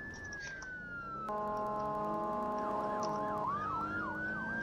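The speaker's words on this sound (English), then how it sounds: "We just turn our lights on. Let's throw a siren and let's go." A game-simulated EMS vehicle siren in Maple County switches on about a second in, holding steady tones before breaking into a loud rising-and-falling wail that continues to the end.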